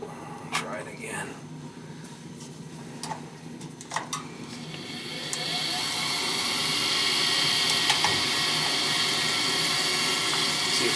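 Clicks and taps from a gas furnace blower motor give way to a sustained, rough whirring hum as it tries to start, steady and moderately loud to the end.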